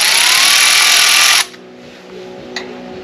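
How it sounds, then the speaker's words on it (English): A cordless ratchet spins loudly and steadily, running a bolt down on a Kohler Command V-Twin engine, then cuts off abruptly and leaves a quiet background with a faint click. "I'm running this down with my cordless ratchet"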